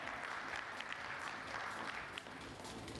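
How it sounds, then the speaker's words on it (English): A conference audience at a food industry summit and awards event applauds throughout, a dense, even wash of clapping heard from within the hall at moderate level, with no speech over it. "Can we have a huge round of applause?"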